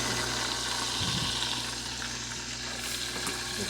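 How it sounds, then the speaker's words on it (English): Mushrooms frying in a hot pan, a steady dense sizzle throughout, with a short stir or shuffle of the pieces partway through. "So they are frying, but I'm gonna keep that heat up."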